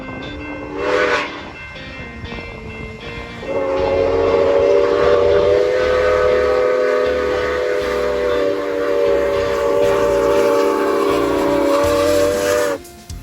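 A steam locomotive, Grand Canyon Railway #4960, chugs along while its whistle sounds long and loud, holding a sustained tone for several seconds over the rolling rumble of the cars.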